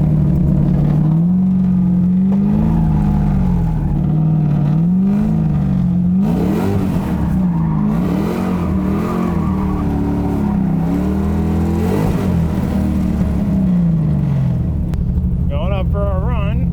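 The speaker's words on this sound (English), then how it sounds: "All right, going up for warm-up burnouts." An LS3-powered drift car does warm-up burnouts at a drift competition. The loud engine drones steadily and rises and falls through repeated revs, with a voice talking over it throughout.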